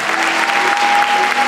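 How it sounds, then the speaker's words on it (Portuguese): Congregation clapping together during a church service at a cell-group congress, a dense, steady wash of applause filling the room, with a faint sustained musical tone beneath it. "Você pode aplaudir ao Senhor"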